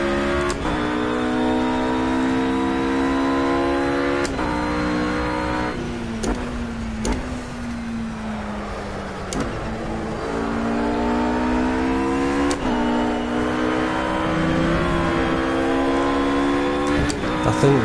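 A race car in the Project Cars video game during a time trial, engine roaring steadily and close, its pitch stepping down sharply as it brakes hard and downshifts through the gears several times, then climbing again.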